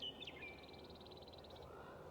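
Wild birds call outdoors on a pasture at morning, with standing damaged trees nearby: a faint, distant chorus of high, repeated chirps and a few sharper calls over a low, steady outdoor hush.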